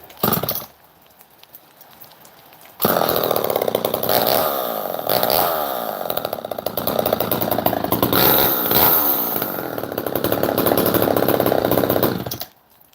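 A small chainsaw is started after a brief quiet idle and revved loud and close, its engine whining continuously with rising and falling pitch for about ten seconds before cutting off.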